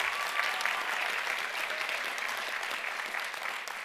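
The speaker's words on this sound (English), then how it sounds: "give them a round of applause" Continuous, even applause from a crowd at a 2024 college commencement ceremony honoring honorary degree recipients, steady and moderately loud throughout.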